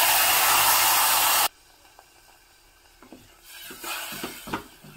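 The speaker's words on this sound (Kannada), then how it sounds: "ಇದು ಈಗ ಹಸಿ ವಾಸನೆ ಹೋಗೋವರೆಗೆ ಚೆನ್ನಾಗಿ ಎಣ್ಣೆಯಲ್ಲೇ ಫ್ರೈ ಆಗಬೇಕು" Ground masala frying in oil with curry leaves for a Havyaka-style rice dish, a loud, close sizzle that cuts off abruptly, followed by quieter stirring scrapes and light sputtering in the pan.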